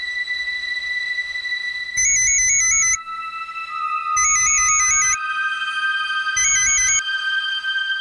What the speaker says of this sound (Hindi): अखिलेश को फोन लगा के देखिए ना